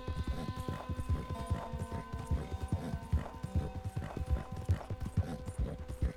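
Horse hooves clip-clop in a steady rhythm while riding in Red Dead Redemption 2, close and prominent over a background hum of game ambience and music.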